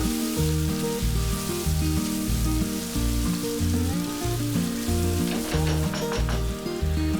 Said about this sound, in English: Then add 1/4 teaspoon crushed black pepper, 1 teaspoon dried thyme, 1 teaspoon dried rosemary, and fry it for about 3 to 4 minutes